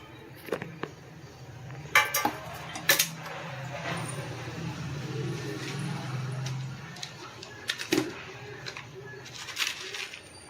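A pot of prawn gravy with raw mango is stirred and covered with a lid, giving a few sharp metallic clinks and knocks over a low background hum with quiet, indistinct voices.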